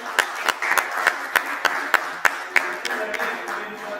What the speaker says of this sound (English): Hey, let's give a round of applause for all of them.